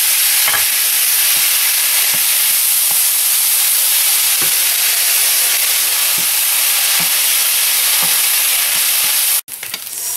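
Soy sauce poured into natto fried rice in a hot pan, a loud, dense, continuous sizzle with faint periodic scrapes of stirring, cut off abruptly near the end.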